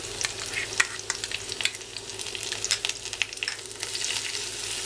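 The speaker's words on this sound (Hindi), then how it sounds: "लाइटली सौते कर लेंगे।" Finely chopped ginger sizzles lightly in a pan for an upvas suran curry, a steady crackling fry broken by sharp spatula clicks and stirring taps, close and fairly loud with no talking.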